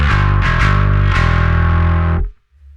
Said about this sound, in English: we have the turbo version of the Darkglass distortion. And these are a high gain version of the Darkglass pedals.